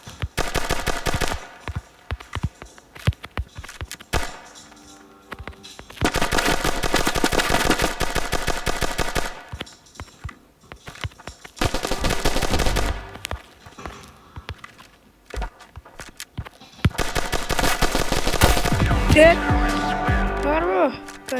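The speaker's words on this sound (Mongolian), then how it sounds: "Яг 30 гэл хийлээ юм буугаараа." Gunfire in the mobile shooter game Standoff 2 on an iPhone: repeated long bursts of rapid automatic shots separated by brief pauses with footsteps, loud and close, while a player talks over it.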